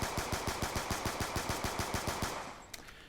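Rapid-fire gunfire in a video game, driven by a macro controller: an even, quick stream of about sixteen loud shots that stops abruptly, leaving a faint click.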